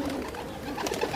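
Pigeons coo softly in a brief, close burst of low throaty murmuring, with no voices over it.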